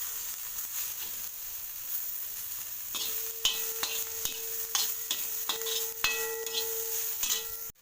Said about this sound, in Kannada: ಚೆನ್ನಾಗಿ ಕೆಂಪಗೆ ಬಾಡಿಸ್ಕೊಬೇಕು